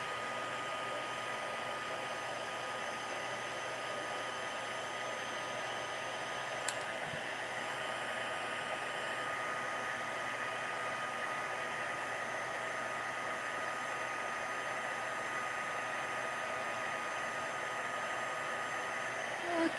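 Steady whirring blast of a heat tool warming embossing powder on a card, a constant, even airflow hiss that runs unbroken the whole time, close and moderately loud, with no speech.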